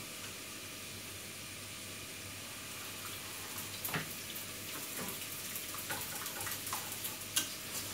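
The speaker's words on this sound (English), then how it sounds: "Turn the heat back up. Keep stirring until it thickens." A thickening vegetable sauce stirred in a hot pan, with a soft, steady simmering hiss and scattered light clicks of the spoon against the pan, growing a little busier toward the end.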